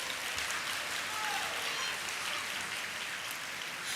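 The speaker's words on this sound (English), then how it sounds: "Give yourself a round of applause." An audience at a graduation ceremony applauds, a dense, steady patter of many hands clapping that holds evenly throughout, sounding somewhat distant and diffuse.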